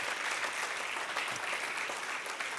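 Church congregation applauding loudly during a French-language sermon, steady dense clapping heard at moderate distance for the whole stretch.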